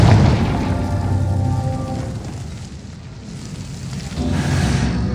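A Confringo spell explosion in the video game Hogwarts Legacy bursts as a loud booming blast with a crackling fiery tail that fades, then a second rush swells near the end.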